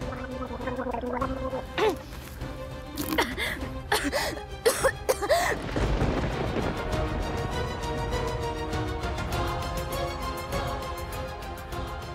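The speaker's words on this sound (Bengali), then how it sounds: "এ কি মেয়ে কাশছে কেন?" A girl coughing and hacking in a domestic drama scene, a series of harsh, uneven coughs with throaty, gargling sounds, close and loud, followed by a steady background tone.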